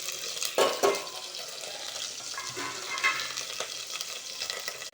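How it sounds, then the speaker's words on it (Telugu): Onions and green chillies frying in hot oil with biryani masala and cumin, a soft continuous sizzle broken by a few spoon scrapes and stirring clatters, close and fairly quiet with no voices. "వేడెక్కిన తర్వాత బిర్యానీ మసాలా వేసుకోవాలి, జీలకర్ర వేసుకోవాలి అండ్ ఉల్లిపాయలు పచ్చిమిరపకాయలు వేసుకోవాలండి."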